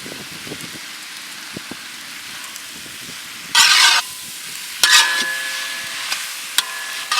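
Garlic paste and green chillies frying for Kerala-style Malabar chicken biryani crackle with a soft steady sizzle, then two louder bursts of hissing spatter, with a faint beeping tone near the end.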